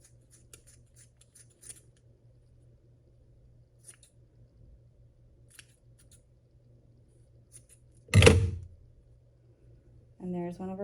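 Scissors snip through yarn to trim a pom-pom, with faint small handling sounds, then one loud close cut; a voice begins talking at the very end.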